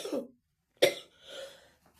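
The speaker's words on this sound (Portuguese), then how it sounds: "me deu uma crise de tosse" Two or three harsh coughs: a muffled one, a sharp loud hack after a pause, then a rougher wheezing cough trailing off.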